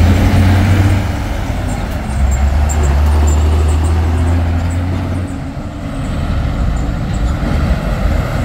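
A loaded trailer truck labours past on a hill road, its deep engine drone strong and near, with steady roadway rumble around it and a voice speaking over the passing noise.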